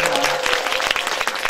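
Audience applause at a live public broadcast recording, a dense, steady clapping from a gathered crowd filling the room at even loudness throughout.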